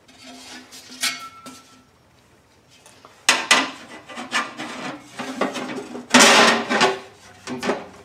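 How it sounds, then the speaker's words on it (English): Rockmen storage door being fitted onto a truck tailgate, with scattered wooden knocks, rubbing and scraping handling noises, bursts of louder clatter in the second half, no talking. "next we're going to install the door on the tailgate itself"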